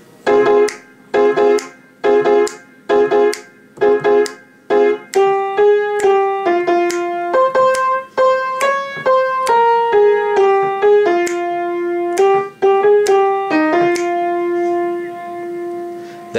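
Piano right-hand backing part for a song: repeated staccato chords in a steady rhythm, then sustained legato notes stepping through a simple line, close and clear without talk.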